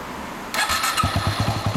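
A 2008 Yamaha WR250R motorcycle engine starts up, followed by a steady, close idle with a rhythmic low-pitched putter.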